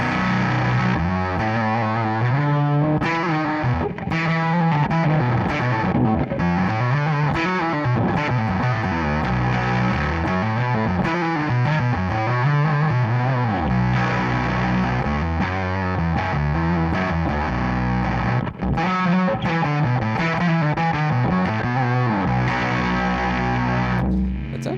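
An electric guitar runs through a drive pedal in a digital rig, playing a continuous overdriven, slightly chorused melodic line with sliding notes and steady loud sustain, no talking.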